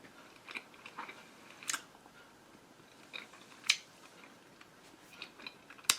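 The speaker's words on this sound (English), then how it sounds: "It takes a longer time to chew." Caramel chewed close to the mouth, giving sparse, soft sticky bites and crunchy clicks spread across a quiet background, with a few sharper snaps standing out alone.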